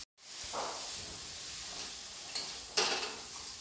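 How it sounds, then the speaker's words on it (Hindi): Chopped pumpkin pieces fry in a pan on medium flame, giving a soft steady sizzle with a few brief scraping stirs, quiet and close. "अब मैं इसे मीडियम फ्लेम पे 2 से 3 मिनट तक इसे ऐसे ही चलाते हुए फ्राई कर लूँगी"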